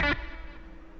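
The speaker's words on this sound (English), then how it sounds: "I'll stop the track so you can hear how quick the delay and reverb is." A guitar note through a 4x10 Fender cab cuts off abruptly, leaving a quick single slapback echo and a short reverb tail that decays away in under a second.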